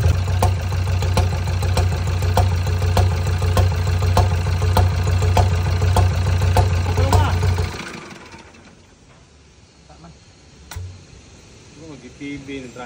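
A Ford Ranger engine with a broken rocker arm runs loudly with a rough, rhythmic knock and intake backfire pops for about eight seconds, then cuts off, leaving a quieter tail with faint clatter.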